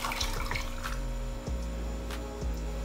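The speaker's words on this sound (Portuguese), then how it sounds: "Você vai colocar aí também 1 xícara de água." A cup of water pours steadily into a pan of crystal sugar for candied peanuts, a continuous close trickling splash, with no talk.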